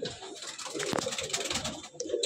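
Andhra pigeons cooing together in a loft, a dense steady chorus of overlapping coos close by with no talk.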